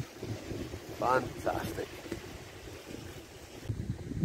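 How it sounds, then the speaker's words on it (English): Waves lap against the shore of a Scottish beach in Ayrshire, a soft steady wash under strong wind noise, with someone speaking briefly in the middle. "see the sound of the waves lapping against the shore, especially when the sun's out"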